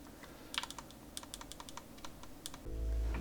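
Typing on a Tofu 60 mechanical keyboard, a quick irregular run of close, clacky keystrokes with a slight rattle from the stabilizers, followed by a low hum near the end.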